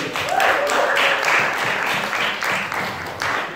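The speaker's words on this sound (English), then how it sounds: "Please give a round of applause for Mr. Kogan." Audience applause for Mr. Kogan before his performance, dense clapping from a crowd with some voices and whoops mixed in, steady and fairly loud throughout.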